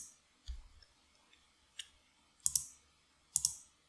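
Sharp computer mouse clicks, a few separate taps spread over several seconds, the last two louder and doubled, close by with near silence between them.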